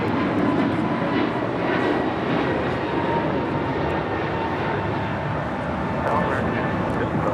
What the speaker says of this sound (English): American Airlines 1245 taking off to Philly on an A321 Neo